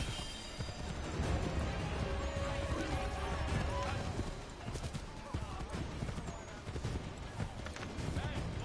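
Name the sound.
horse hooves in video game Assassin's Creed 3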